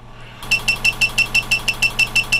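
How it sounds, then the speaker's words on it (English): TESmart KVM switch emitting a loud electronic beep, a steady series of about a dozen evenly spaced sharp tones over a faint low hum. "My goal is to get rid of the dreaded beep."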